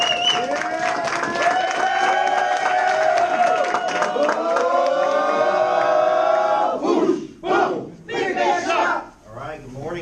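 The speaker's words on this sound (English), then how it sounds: "Please give a big round of applause to Matt Chang." An audience applauds and cheers for a speaker being introduced at an event, the crowd noise loud and sustained before it breaks into scattered claps and voices as it dies away.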